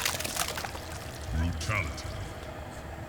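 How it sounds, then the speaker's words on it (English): Liquid splashing and pouring in a Mortal Kombat X brutality finisher as blood rains down, a soft watery shower under speech from people talking over the game. "Blood rains down. More of a blood shower."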